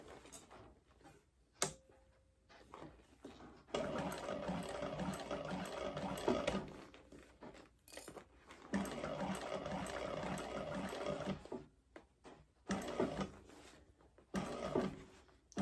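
A sewing machine runs a slightly larger stitch through several thick layers of a bag, whirring in bursts that start and stop with short pauses, close but fairly quiet.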